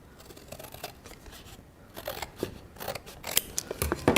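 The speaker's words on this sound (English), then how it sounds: "Let me just come in with my scissors and cut that top bit off." Scissors snip through the top of a piece of card in a craft session. The close, crisp cuts start sparse and quicken into a rapid run of snips near the end, with no talk.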